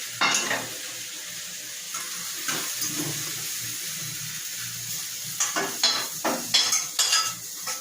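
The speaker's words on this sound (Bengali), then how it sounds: "আমার গাছ পাঁঠার মাংস, আলু একসঙ্গে লাল লাল করে ভাজা হয়ে গেছে" Goat meat and potatoes fry together in a pan, a soft continuous sizzle under repeated scraping and stirring strokes from a spatula, with a cluster of sharper clanks toward the end.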